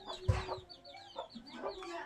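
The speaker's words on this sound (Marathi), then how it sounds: "ही बघा कोंबडी बघा अंडा द्यायला बसलेली आहे" A brooding hen sitting on eggs in a Konkan village clucks in a few soft, separate bursts, fairly close and quiet, with no talking.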